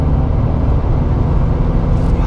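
A 2005 BMW 320d Touring E46 diesel with over 300,000 km pulls in fourth gear from 80 km/h and about 2000 rpm up a slight incline, giving a loud, steady, low in-cabin engine drone and road rumble.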